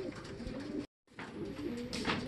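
A racing pigeon at its home loft during a hard derby race gives soft, close coos, broken by a brief silent gap, with quiet background noise and no talking.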